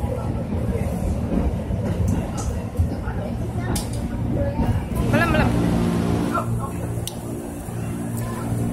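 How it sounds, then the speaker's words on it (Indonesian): Steady low rumble and rattle from inside a Jakarta–Bogor commuter line train carriage as it moves, with people chatting over it and a few clanks. "Jalan keretanya."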